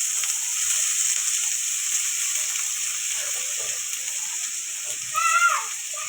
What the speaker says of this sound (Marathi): तर तेलामध्येच कांद्याची पाट पण फ्राय करायची चांगली